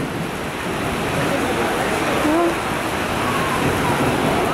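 Hard rain pours down in a loud, continuous hiss close by, a dense, unbroken wash of noise with faint voices barely showing underneath.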